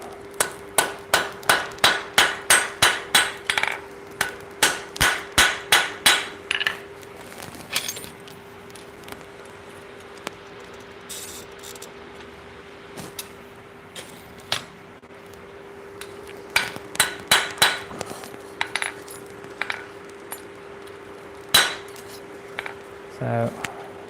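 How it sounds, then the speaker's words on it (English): Hot metal forged with a hammer on an anvil, giving loud ringing strikes in quick rhythmic runs, then pauses and more bursts of blows, close by. There is some faint background noise between runs. "We are getting metal hot in the fire and hitting it with a hammer."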